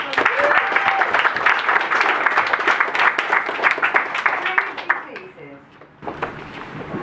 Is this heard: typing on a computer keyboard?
no